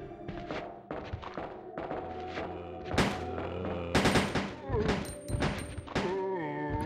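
Ada fires her gun in Resident Evil 2 as repeated sharp shots and thuds punch through a busy game soundtrack with music tones, several bursts clustered toward the middle and end.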